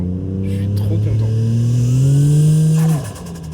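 A Toyota Chaser fitted with a J-pipe exhaust revs up hard, its engine note climbing steadily before cutting off sharply near the end, loud and close.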